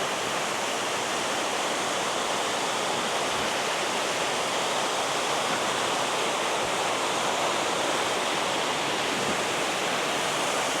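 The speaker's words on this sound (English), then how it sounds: "There it is, Benton Falls." Benton Falls pours in a steady, dense roar of falling water heard up close from the bottom of the waterfall, loud and unbroken throughout with no voices.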